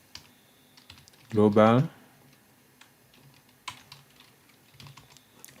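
Laptop keys click as a command is typed, scattered light taps spread through the moment, with a short burst of speech early on.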